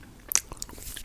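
A close bite of spicy ramen noodles gives a short crunchy snap and a little chewing, intimate and near, with no talking.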